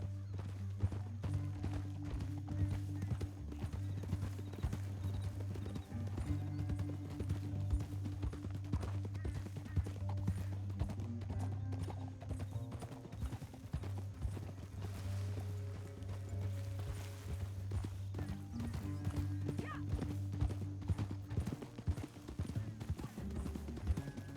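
Horse hooves clip-clop steadily in Red Dead Redemption 2, a continuous rhythmic walking gait heard close and clear throughout over a low game music bed, with no speech.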